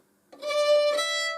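Fiddle playing the B part of the tune Soldier's Joy: a clear bowed line that starts after a brief silence and holds sustained notes, solo and close.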